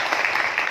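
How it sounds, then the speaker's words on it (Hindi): Audience applause during a live motivational speech, a brief dense burst of clapping from a crowd, steady and fairly loud, with no voice over it. "तालियां बजा दीजिए इसके लिए"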